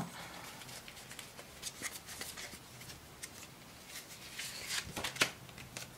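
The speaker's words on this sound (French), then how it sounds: "J'aimerais tirer une carte." Cards being handled and drawn from a deck, soft papery flicks and rustles, faint and close, with a few sharper snaps near the end.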